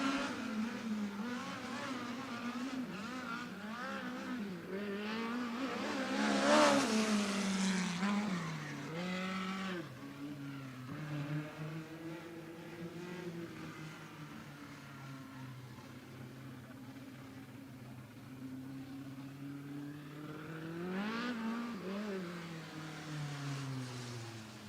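A USAC midget race car runs a qualifying lap at Bakersfield Speedway, its engine rising and falling in pitch as it passes and circles the track, with an announcer talking over it.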